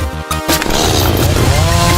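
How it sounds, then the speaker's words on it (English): A chainsaw weapon in the Roblox Rivals video game starts with a few choppy bursts, then settles into a loud, continuous buzzing whir. "Maybe I'll try the chainsaw."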